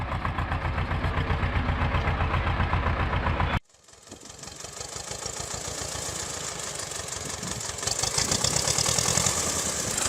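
A homemade 8 horsepower cultivator engine runs loud and close with a steady, rapid mechanical chatter; at about 3.6 seconds the sound cuts sharply and comes back as a continuous running drone that builds toward the end.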